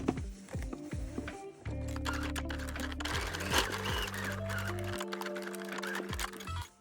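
A domestic sewing machine stitches a corner of a street jacket with a welt pocket, running in short bursts of rapid mechanical whirring and clatter with brief pauses between runs, close up and without talk.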